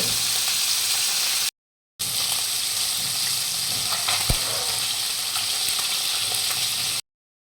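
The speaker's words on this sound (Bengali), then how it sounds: "ট্যাংরা মাছটি এখন ভাজা হইব।" Tengra fish frying in oil in a kadai, with a constant close sizzle and bubbling, a brief gap of silence, and a sharp clink or stir partway through.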